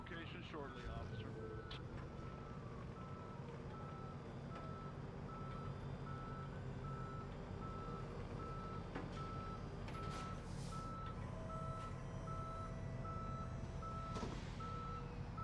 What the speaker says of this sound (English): Tow truck will arrive at your location shortly, officer.